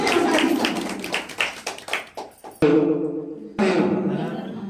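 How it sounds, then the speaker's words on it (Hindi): Scattered, uneven clapping at a Mahila Shakti Seva Sanstha gathering, with separate hand claps and thuds fading in and out, then a sudden cut to voices and a hollow room tone. "जोरदार तालियों से स्वागत कीजिए।"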